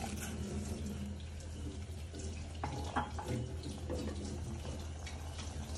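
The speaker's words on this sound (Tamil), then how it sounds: "நான் பால் பவுடரோட சுடுதண்ணி சேர்த்து கலக்கிறேன்." Hot water poured into milk powder while making masala chai, a steady running, splashing pour of liquid that continues throughout with no voices.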